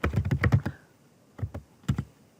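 Keys clatter on a computer keyboard while code is typed into the PyCharm editor. A quick run of close, crisp keystrokes is followed by a pause, then a few scattered taps in pairs.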